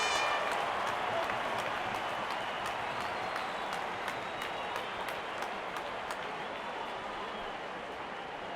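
Cricket fans, including supporters of the opposing side, applaud a boundary four in a stadium, a steady wash of clapping that carries on without a break and eases off a little toward the end, with no one speaking.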